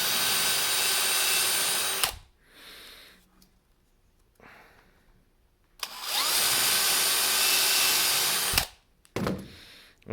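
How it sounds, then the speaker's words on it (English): Countersinking drill bit cleaning up holes in a 3D-printed plastic drilling template, with two loud sustained whining bursts of a couple of seconds each, a short third burst, and quiet pauses between them. "So I did a little countersinking cleanup on those holes."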